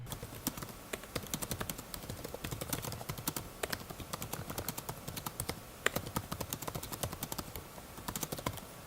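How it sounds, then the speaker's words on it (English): Rapid, steady clicking of a 2016 Razer Blade 14 laptop keyboard, close and crisp, with continuous typing rhythm and occasional heavier key strikes, no voices. "I will include a sound test right about now."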